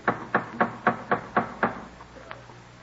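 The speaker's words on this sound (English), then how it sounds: "Who's knocking so loudly, Martha?" A hand knocks loudly on a wooden door at a Boston house in 1707, seven evenly spaced sharp raps followed by a single fainter tap, close and clear in a quiet room.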